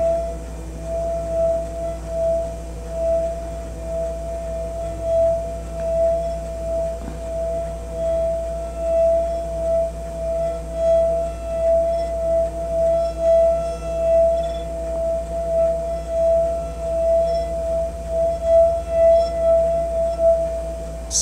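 A wet finger circles the rim of a glass holding water, drawing out a sustained singing tone that wavers and swells gently over a long stretch, steady and clear with no talking.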